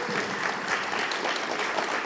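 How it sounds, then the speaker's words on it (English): Steady, moderately distant audience applause at a Go programming conference as speaker Jaana Dogan is welcomed, an even wash of many hands clapping without pause. "So round of applause for Jaana."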